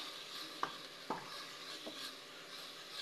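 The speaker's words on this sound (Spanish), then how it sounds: "Aquí lo que tengo son dos dientes de ajo, que lo voy a sofreír en una cucharada de aceite." Two garlic cloves sautéing in a spoonful of oil give a quiet, steady sizzle, broken by a few light stirring clicks of a utensil against the pan.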